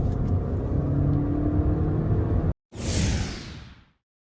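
A Haval H6 1.5T car launches under launch control, a loud engine roar with rushing wind building and holding, then a brief cut followed by a swelling whoosh that fades away.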